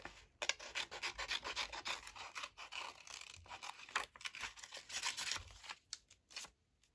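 Scissors cut through paper close by and fairly quietly, giving a steady run of crisp snips and rustles for several seconds before trailing off.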